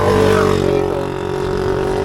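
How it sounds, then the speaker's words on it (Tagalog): A motor vehicle engine that is leaking oil runs close and loud, a continuous buzzing hum with steady tonal harmonics and a slight fade in the opening moment. "sumusuka na ng langis yung ating makina"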